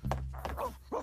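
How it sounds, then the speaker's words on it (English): A dog barking indoors, a few quick close barks within a second, fairly faint. "What is Spank barking at?"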